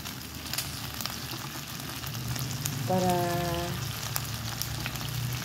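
Garlic fries in oil in a pan with a steady, close crackling sizzle throughout, while a brief tonal whine rises faintly in the background near the middle.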